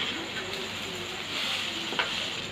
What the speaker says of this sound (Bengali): মাথাটা দিয়ে আরেকটু নাড়াচাড়া দিয়ে নিচ্ছি।